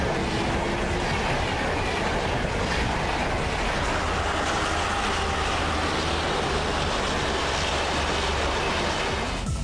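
The Rajdhani Express passenger train runs on its rails in a loud, continuous rushing roar with a faint rhythmic clatter of wheels over track, steady and close throughout.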